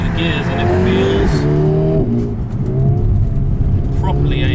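A 2020 Mercedes-AMG CLA 35 engine pulls hard through the gears, its note climbing in pitch then dropping at each shift, loud and close with someone talking over it.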